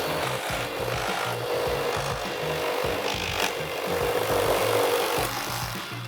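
A Kobalt reciprocating saw cuts through wood, a steady rasping, rhythmic sawing that stays loud and close throughout with no talk.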